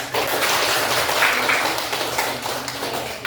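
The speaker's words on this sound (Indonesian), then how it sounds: "Kita berikan tepuk tangan" A class applauds presenting groups during an open coding and artificial intelligence lesson at an Indonesian school, with a sustained, dense wash of many hands clapping close by and fairly loud from start to finish.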